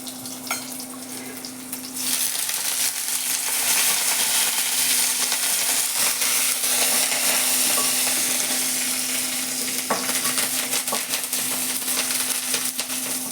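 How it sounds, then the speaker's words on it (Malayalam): Shallots and curry leaves fry in hot oil with a steady, dense sizzle that swells louder after the first couple of seconds and keeps on, with occasional stirring scrapes over it. "ഉള്ളി മൂത്തു, കരിവേപ്പില ഇട്ടു, അതും ഒന്ന് മൂത്തു കേട്ടോ"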